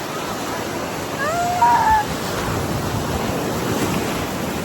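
Sea waves breaking on a beach, a continuous close surf wash with wind rumbling across the mic, a brief whistle-like call faintly in the middle.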